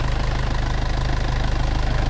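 Close up, the diesel engine of a 2001 Mitsubishi Dragon Power pickup ticks over at idle with a smooth, rapid, evenly pulsing low drone and no other sounds.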